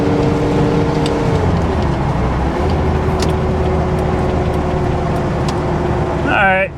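A 1989 Nissan D21 Hardbody Z24 pickup cruises at about 55 to 60 mph, giving a steady, loud engine drone and road roar from inside the cab, with a brief rising whine near the end.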